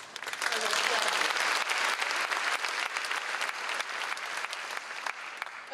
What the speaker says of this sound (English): I will applaud you.